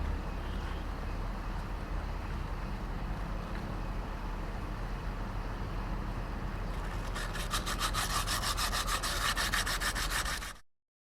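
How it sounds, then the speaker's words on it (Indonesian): Steady, continuous rasping of wood sandpaper rubbing, close and loud, while servicing a Vespa, shifting to a faster rhythmic scrubbing near the end before it stops. "Nih amplas kayu nih"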